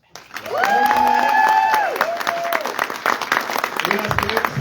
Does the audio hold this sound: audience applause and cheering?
yes